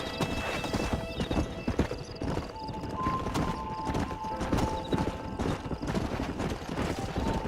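Horses in the Western video game Red Dead Redemption, with steady clip-clopping hooves and repeated whinnies over a busy ranch background.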